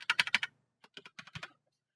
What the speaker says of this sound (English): I'm just going to type in the user row and user column